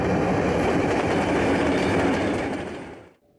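A Southwest Portland Cement train runs on the rail line from a limestone quarry to a cement plant in Victorville, California, with a loud close rumble and rattling rail cars. It passes steadily and then fades out quickly.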